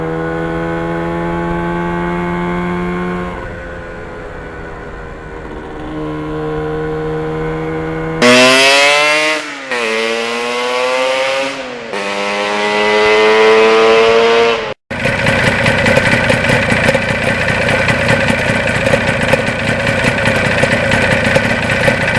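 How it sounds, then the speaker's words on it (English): A 1977 Yamaha RD400 two-stroke motorcycle idles with a buzzy, harmonic tone, then revs sharply in several rising and falling bursts before settling into a loud, raspy steady run, close and alone. "That's a 42-year-old motorcycle."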